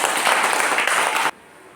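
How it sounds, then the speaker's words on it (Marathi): Schoolchildren at an ashram school in Mokhada clapping together in a classroom, a burst of brisk, dense applause that stops abruptly, leaving quiet room tone. "छान, टाळ्या वाजवा."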